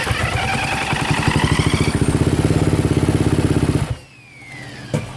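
Kawasaki KX250F dirt bike with a suspected failing fuel pump: rapid, even engine pulses run loud and close for about four seconds, then cut out abruptly into near silence, followed by a short clank.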